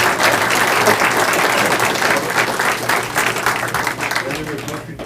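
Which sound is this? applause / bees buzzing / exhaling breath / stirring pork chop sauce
applause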